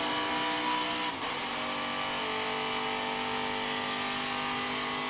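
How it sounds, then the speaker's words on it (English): A race truck engine in Daytona qualifying screams at high revs, with a brief dip for a quick gear shift before the harsh, steady roar picks up again, loud and continuous without voices. "You hear that quick shift? Really important for Brett Moffitt to wind that thing out perfectly and nail his shifts"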